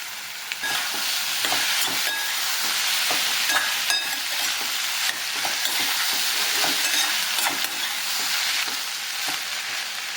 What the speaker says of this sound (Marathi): आता याच्यात दहा मिनटं असं परतून देऊ